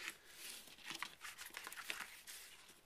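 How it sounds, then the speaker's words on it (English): Paper envelope flaps are creased down with a bone folder, making very faint, close crinkling and soft scraping strokes in short bursts, with no voices. "Bone folder, fold these over gently"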